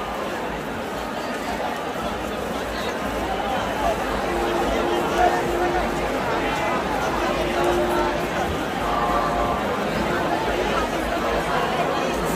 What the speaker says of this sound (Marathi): असा हा जल्लोष आहे चिंतामणी देवाचा.